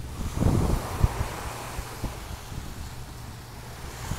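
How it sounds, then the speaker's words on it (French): Steady wind buffets the microphone at a beach while sea waves wash in the background, with a louder gust early on and a low continuous roar throughout; no talk. "entre le bruit de la mer, là, le son de la mer et puis le vent"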